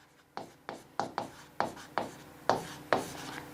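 Strokes of writing on a board during a maths lesson: a series of short, scratchy strokes in a steady rhythm, about eight marks in under four seconds, close and moderately loud with no talk.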